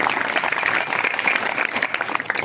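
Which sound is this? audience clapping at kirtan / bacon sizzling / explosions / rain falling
audience clapping at kirtan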